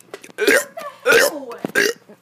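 A child burps loudly several times in a row after drinking, each a croaky, close burst with a little voice mixed in.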